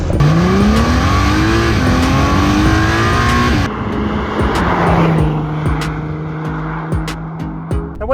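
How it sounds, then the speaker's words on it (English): A 2021 Honda NSX supercar engine loudly fires up and accelerates with rising revs, shifting up through gears before settling into a steadier drone with passing noises and clicks. "I think it's about time we hit that starter button and went and chased some tarmac."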